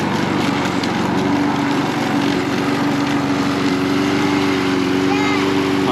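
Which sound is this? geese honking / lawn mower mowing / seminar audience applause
lawn mower mowing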